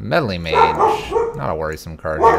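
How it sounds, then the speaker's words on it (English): A pet dog barks and yips repeatedly in a home while someone talks over it, the barks blending into his continuous speech. "She gonna bark. She gonna bark all day."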